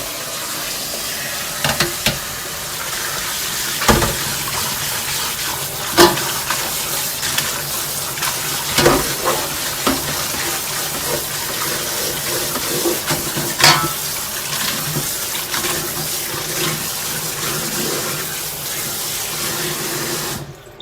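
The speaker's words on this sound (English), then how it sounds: "then run some water." Tap water running over freshly blanched bull kelp in a sink, a steady close splashing rush with scattered clinks and knocks from handling, and no talking.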